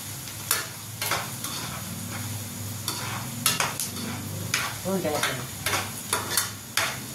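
Onion frying in a pan for a chana dal zunka, with repeated stirring scrapes and clinks over a steady low sizzle, close and moderately loud.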